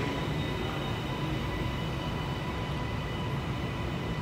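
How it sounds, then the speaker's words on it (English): A train arriving at a platform of Brisbane Central Station gives a steady, loud rumble of rolling wheels and motors that holds unbroken throughout, with no announcements or talking audible. "North Gate service arriving platform 3, stopping all stations to North Gate and now arriving platform 3"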